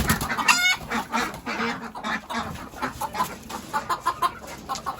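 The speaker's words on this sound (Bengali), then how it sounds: "এরকম মুরগি আমি জীবনে দেখিনি, এত মারকুট, একাই তিনটার সাথে মারপিট করছে" An aggressive country rooster fights three other chickens, with close, agitated clucks and squawks coming in a busy, uneven flurry.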